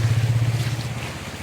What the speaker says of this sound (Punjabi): ਨਾਲਾ ਪਿਆ ਵਗਦਾ ਇੰਨੀ ਸਪੀਡ ਨਾਲ ਪਾਣੀ ਆ ਰਿਹਾ